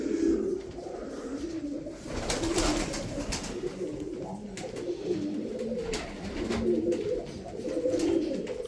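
Uzbek pigeons coo in a loft, with repeated low, throaty rolling calls overlapping in a steady rhythm close by, alongside occasional rustling and faint background voices.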